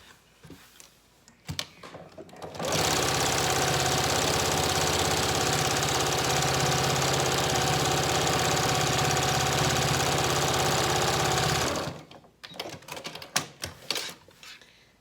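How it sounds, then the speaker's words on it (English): A sewing machine runs steadily for about nine seconds, a fast even mechanical whir and rattle, close by, with quieter handling noises before and after. "And then I'm gonna sew on this side."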